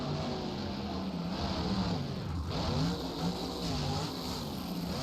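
Team Hot Wheels monster truck at a Houston arena freestyle event, its engine roaring and revving steadily in a loud, continuous drone with rising and falling pitch, wide crowd-filled space around it.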